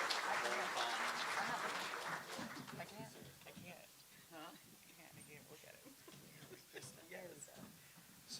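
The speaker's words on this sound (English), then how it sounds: "Let's give the mayor and council members another round of applause" At a 2022 State of the City event, an audience applauds the mayor and council members in a burst of clapping that fades after a couple of seconds, followed by quiet talk and a dog whimpering nearby.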